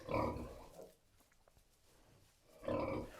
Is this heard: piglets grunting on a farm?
yes